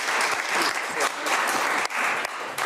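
An audience applauds in dense, loud, continuous clapping that fills the space, with brief dips in intensity.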